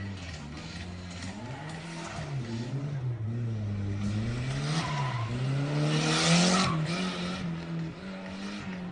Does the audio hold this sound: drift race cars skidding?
yes